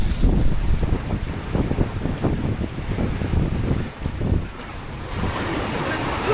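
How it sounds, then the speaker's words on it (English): Ocean waves surge and wash around a small rowing boat at sea during an Atlantic crossing, a loud continuous rush with wind buffeting the microphone, heaviest in the first few seconds before easing slightly. "You couldn't see the waves, but they were like this."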